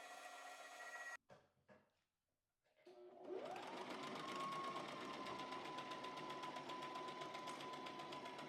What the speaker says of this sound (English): we're going to sew together at the shoulders